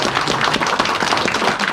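A small group of young women at a casual community meeting applauds together, a dense, steady burst of close clapping that fills the short moment without any talk over it.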